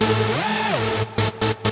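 Heavy synth played solo with its note transients boosted by an Oeksound Spiff transient processor, a sustained harmonic tone that bends upward and back before ending in a few punchy, choppy stabs, loud and with no talking.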